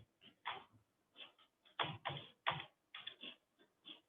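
Keys clatter on a computer keyboard in irregular quick bursts of taps with short pauses between them, close and fairly quiet, with no talking.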